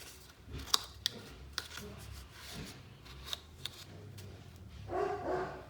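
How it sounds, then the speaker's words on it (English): Scattered sharp clicks and taps, then a short burst of high-pitched dog yips and barks from somewhere in the room toward the end. "excuse my dogs"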